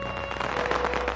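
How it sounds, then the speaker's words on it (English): Chinese firecrackers burst in a dense, continuous string of sharp crackling pops, loud and steady throughout with no voices over them. "The firecrackers are used basically is because of the loud noise they have"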